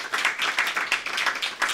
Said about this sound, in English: yes, it's worth a hand clap.